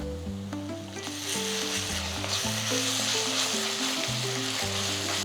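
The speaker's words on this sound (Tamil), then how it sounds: "இப்போ நான் இஞ்சி பூண்டு பேஸ்ட் போட போகிறேன்." Two spoons of ginger garlic paste sizzle hard in hot oil in a pan for Chettinad prawn thokku. The hiss stays loud and steady, with stirring, and background music plays underneath.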